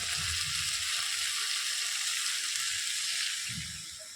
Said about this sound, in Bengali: আলু দিয়ে মশলা দিয়ে কষা